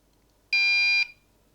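A single electronic beep from a QNAP NAS signalling it has booted, about half a second long, bright and steady, sounds once in an otherwise quiet room.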